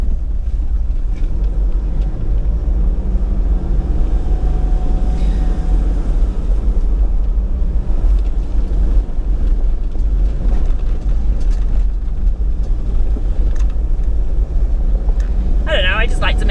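Car driving fast down a short, steep descent on the Caledonia River Track in Alpine National Park, Victoria, a loud constant engine and road rumble filling the whole stretch, with a brief rattle near the end.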